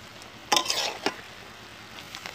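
Wild dele berries being stirred in a cooking pan, with a couple of brief scraping, sizzling bursts of mixing that fade back to a quiet background.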